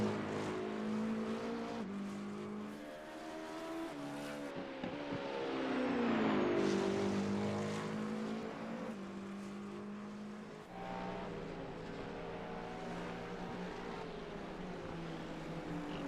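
Race cars lapping the Le Mans 24 Hours circuit during qualifying and the Hyperpole shootout: a loud, sustained engine whine that rises and falls in pitch as cars accelerate, pass and shift, with no talk.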